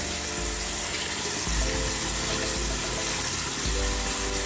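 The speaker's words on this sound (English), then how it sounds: "So I need me some hot water. I'm sorry if it's loud" A tap runs hot water steadily into a sink, a loud, continuous rush of water with no pauses.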